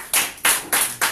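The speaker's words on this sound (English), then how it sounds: "Let me clap for this man." Hands clap for a man, four sharp, evenly spaced claps close up with no voices.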